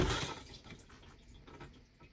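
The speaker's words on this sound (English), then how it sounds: "I'll just show you the blue button being pressed in, pumping around there, and then draining into the cassette" Chausson 727GA motorhome toilet flushing, water rushing and pumping around the bowl and then draining away into the cassette, loudest at the start and fading into gurgling trickles.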